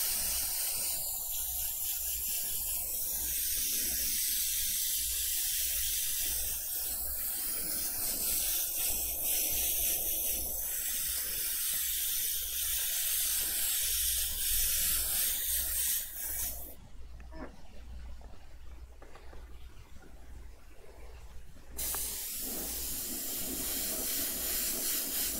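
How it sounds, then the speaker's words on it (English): Airbrush spraying fluorescent yellow and red paint while touching up a Violator design, a steady close hiss of air and paint with brief pauses and no talk. "Clean out this airbrush real quick"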